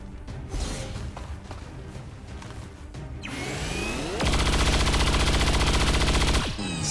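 Rapid gunfire in the video game XCOM 2, a dense burst of shots swelling over a few seconds into a loud, sustained automatic roar before cutting off abruptly, with scattered clatter beforehand.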